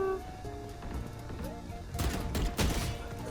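Gunfire in a Valorant Deathmatch match, a cluster of sharp shots bursting in over the last second and a half above a steady game backdrop, fairly close and loud.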